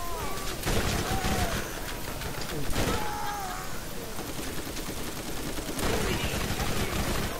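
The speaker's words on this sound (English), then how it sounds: "The spread launcher is so cool." Spread launcher firing in Borderlands, dense bursts of gunfire and explosions layered with game effects, loud and continuous, with a voice talking over the shooting.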